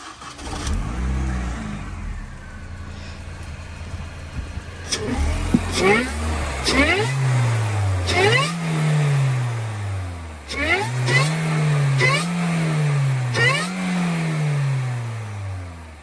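Supercharged R53 Mini Cooper S engine cranks and catches, then revs repeatedly in a series of rising and falling bursts, close and fairly loud.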